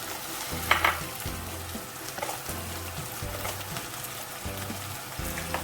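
Onions and tomatoes fry in a pan for a spicy potato bhujia, giving a steady close sizzle with occasional stirring scrapes and clinks and no talking.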